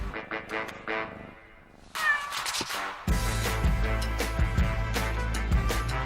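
Bengal cat, a breed descended from domestic cats crossed with the wild Asian leopard cat, giving a few short meows near the start before louder music-like sound swells in and carries on to the end.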